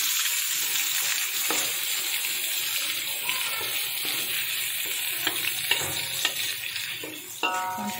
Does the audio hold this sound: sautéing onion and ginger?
yes